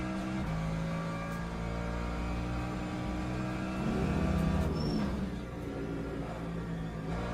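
A Mercedes GT3 race car engine in Le Mans Ultimate drones steadily at Spa, swelling briefly louder midway as the revs climb, then settling back to a constant loud hum with no talk over it.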